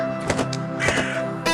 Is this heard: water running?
no